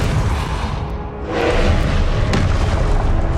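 Confringo spell explosion in the Hogwarts Legacy video game, a loud booming blast that swells and rumbles on, heavy and close, with no talk.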